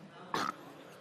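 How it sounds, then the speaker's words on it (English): A UFC fighter coughs once, a short harsh burst near the start, against faint arena background. "look at him coughing"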